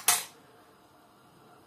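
A metal spoon is set down on a kitchen scale with one sharp, bright clink that rings briefly and fades, followed by quiet room tone.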